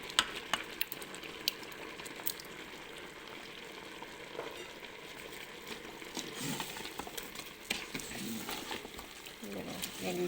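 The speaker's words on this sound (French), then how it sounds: "Je mélange bien le tout." Paella rice and tomato pulp being stirred in a frying pan, a steady close sizzle broken by scattered clicks and scrapes from the spoon, with speech faintly present at times.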